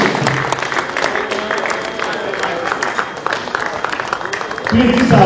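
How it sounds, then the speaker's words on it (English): Audience applause at a presidential reception honouring the ICAO president, a moderate spread of clapping hands in a hall, with voices over it and a louder swell at the end. "One round of applause."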